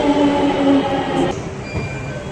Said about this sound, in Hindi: तो गाइस हमारी मेट्रो आ गई है।